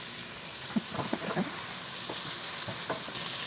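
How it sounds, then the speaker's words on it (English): Onions frying in a pan during a South Sudanese cooking session, a steady soft sizzle with a few brief clicks and stirring taps, close and moderate in level with no talk. "We'll start frying the onions"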